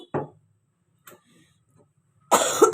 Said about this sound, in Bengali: বাবারে কি কাশি হয়েছে গো আর বলো না কাশি আর যাচ্ছে না